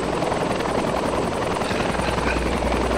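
A helicopter in a military-themed video game operation drones steadily with a fast rhythmic rotor chop, loud and close throughout, with no speech over it.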